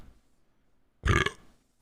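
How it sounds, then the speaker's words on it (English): One short, loud burp is made close to a microphone, a brief guttural blast within otherwise quiet room tone. "I'll burp into the microphone and we'll just keep going"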